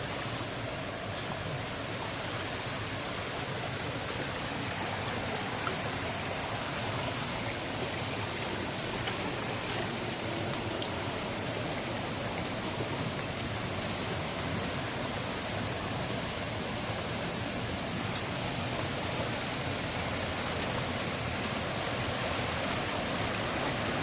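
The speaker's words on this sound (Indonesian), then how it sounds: "Masuk ke sungai ini, Lur." A river stream on Mount Rinjani, Lombok rushes steadily and loudly, a dense unbroken wash of flowing water with no voices over it.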